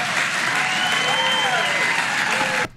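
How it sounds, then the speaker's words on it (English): A crowd breaks into sustained applause, loud and even, with some voices mixed in, before it cuts off abruptly at the end. "And people clap."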